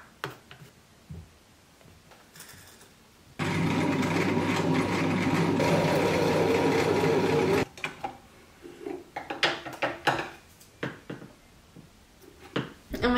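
A sewing machine stitches a side seam on a tube top in one steady, loud whirring run of about four seconds, framed by quiet clicks and fabric handling.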